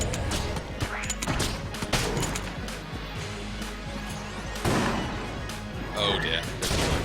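Enemies firing guns in the video game Enter the Gungeon, a busy stream of sharp repeated shots and impacts layered over game music and effects, with a voice talking over it.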